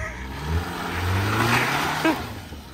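A Nissan Altima revs and accelerates for a jump attempt outdoors, a steady engine roar rising slightly in pitch over a few seconds, heard from a short distance.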